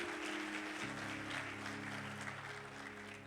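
Church congregation applauding during an evening sermon, a dense broadband wash of clapping held steady throughout over a low sustained musical tone from the room.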